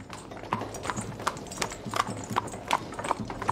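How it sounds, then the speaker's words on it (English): Horse hooves clip-clop at a steady walking rhythm over a soft village ambience, the evenly spaced hoof strikes clear and moderately close. "Clip clop, clip clop."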